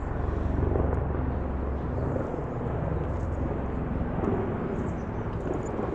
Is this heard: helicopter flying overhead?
yes